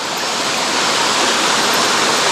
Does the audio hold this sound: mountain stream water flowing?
yes